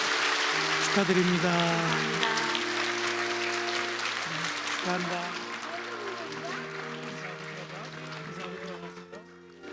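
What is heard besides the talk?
congregation applauding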